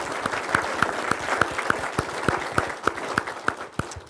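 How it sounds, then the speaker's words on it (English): An audience at a university Founder's Day alumni recognition ceremony applauds its award recipients with steady, dense clapping, a few louder individual claps standing out near the front, sustained throughout. "So please, a round of applause now for all of our recipients."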